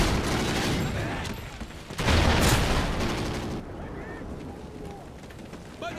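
Sniper gunfire in Call of Duty: Ghosts on Wii U: heavy shots and explosive bursts, with one especially loud blast near the middle, then quieter game sounds, a voice shouting briefly near the end.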